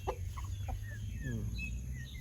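Four-month-old Brazilian giant chickens cluck in short, scattered bursts while grazing on grass in the evening. A faint low hum sits beneath the calls.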